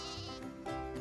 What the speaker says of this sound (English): I want to feed the sheep some of my squash. Come here, sheep.